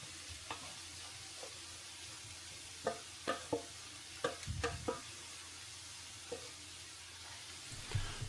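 Dehydrated jambalaya with rice cooking in a pan at a wild camp, with a soft steady sizzle and a few scattered stirring scrapes and knocks, close and fairly quiet.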